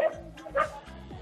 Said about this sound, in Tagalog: Ang lakas ng aso, ha?